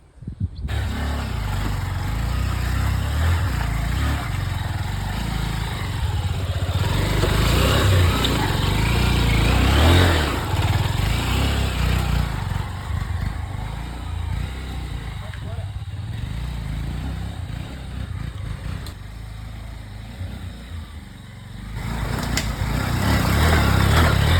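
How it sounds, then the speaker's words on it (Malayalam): A motorcycle rides off-road in rain, its engine droning and revving loudly and close throughout, rising and falling with the terrain, with talk over it. "ഇതിൽ നമ്മൾ ബൈക്ക് കൊണ്ടുവന്നത് ഫുൾ ഓഫ് റോഡാട്ടോ"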